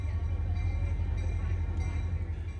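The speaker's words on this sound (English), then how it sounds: "The mode of power for our train is GP38-3 number 1009." Great Smoky Mountains Railroad train hauled by GP38-3 diesel locomotive number 1009, giving a steady, loud low rumble of engine and rolling cars that holds unbroken throughout.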